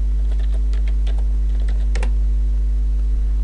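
Quick burst of keystrokes on a computer keyboard while typing a name into Microsoft Word 2013. About two seconds of close, crisp clicks over a steady low hum, then the clicks stop.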